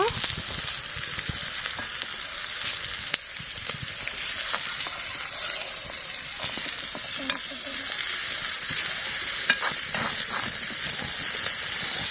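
Potatoes go into hot oil at a camp cookout and fry with a dense, continuous sizzle, while stirring adds repeated scraping and clatter throughout.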